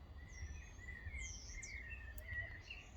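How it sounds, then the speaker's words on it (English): A blackbird sings slow, fluty, melodious phrases in a sunny garden, several clear whistled notes rising and falling at moderate distance over a low background hum. "is the song of the blackbird"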